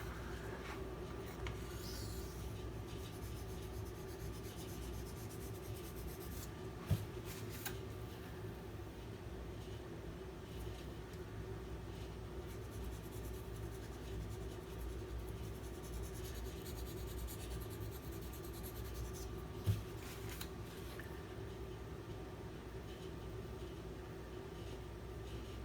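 A Spyderco Para 3 knife blade is drawn across a sharpening stone in quiet, steady rasping strokes, with a couple of faint clicks between passes.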